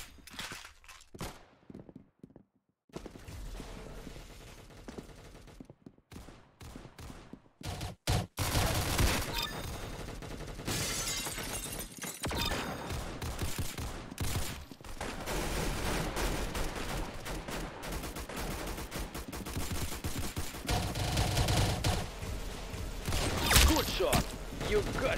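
Gunfire in the video game Clown Infection crackles in rapid bursts and fusillades, fairly loud and dense after a quieter opening, with footsteps and mechanical clatter mixed in and voices talking over it.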